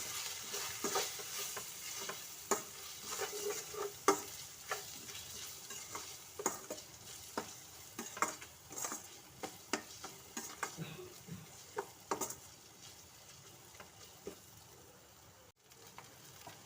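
Food frying in a pan with a little salt and turmeric, with a soft continuous sizzle and repeated scraping and tapping of a spoon as it is stirred, fairly quiet throughout.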